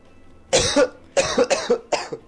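Harsh coughing in rapid bouts, one single cough followed by a quick run of three, close and loud, likely a person imitating the fits.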